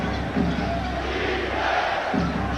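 Basketball arena crowd at a Suns–Knicks game cheering and roaring, a dense, steady wash of many voices with a couple of louder swells.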